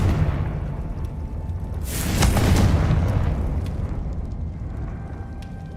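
A Confringo fire-spell blast in Hogwarts Legacy erupts as a loud, roaring boom that swells around the two-second mark and then lingers as a low rumble over a steady game backdrop.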